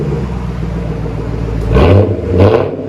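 A Japanese V8 engine with high-flow cats exhaust revs twice, deep rumbling bursts rising above a steady idle, loud and close.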